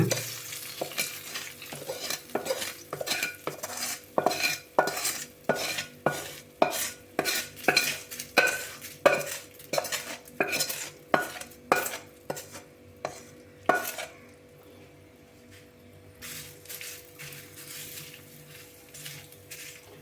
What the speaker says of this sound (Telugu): ఇప్పుడు మనం పచ్చళ్ళ కలుపుకుందాం